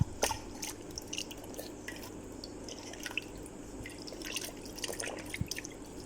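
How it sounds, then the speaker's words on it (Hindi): Bitter gourds (karela) being washed and squeezed by hand in water, with steady dripping and trickling water and small wet splashes close by, and no talking. "अब मैं करेलों को अच्छे से वॉश कर लूँगी ताकि इनसे नमक और हल्दी सारे निकल जाए और कड़वा पानी भी निकल जाए।"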